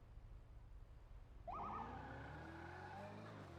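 Police sirens in the game GTA V on NoPixel start suddenly after a quiet stretch of low engine hum, a wailing siren rising over a car engine and continuing steadily to the end.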